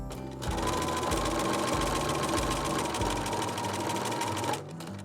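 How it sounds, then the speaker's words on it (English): A sewing machine stitches a ruffle onto a Valentine's dress, a steady close mechanical whir with a rapid chugging rhythm that runs for several seconds and then stops. "so I'm gonna sew that."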